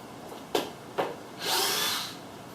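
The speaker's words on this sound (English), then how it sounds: "Take the screws out of your profile." A power drill backs screws out of a camper wall profile during a DIY Benroy camper build, giving two short sharp bursts followed by a longer, steadier whirring run, close and fairly loud with no talk.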